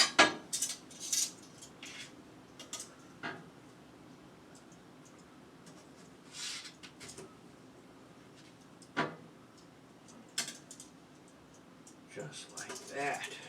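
Knife and fork clinking against a plate while a mustard pork roast is cut into serving pieces, with sparse sharp scrapes and taps spread through a quiet kitchen, under occasional soft talk.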